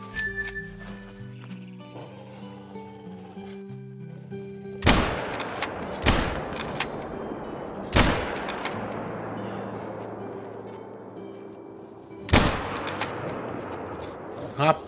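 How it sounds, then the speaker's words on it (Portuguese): Several loud gunshots ring out at irregular intervals, each with a booming echoing tail, over a quiet soundscape with soft background tones in the hunting game theHunter: Call of the Wild. "errei uns par de tiros aqui, mas consegui depois"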